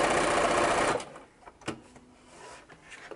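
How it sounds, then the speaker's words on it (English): A sewing machine stitches a fabric corner in one loud, whirring burst of about a second, then stops, leaving faint handling clicks and taps. "And now we're gonna just sew that corner."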